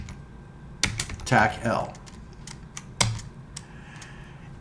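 Computer keyboard keys being typed during a Linux terminal session, a few sharp clicks and key taps spaced over several seconds, close and fairly quiet, with a brief stretch of speech in between.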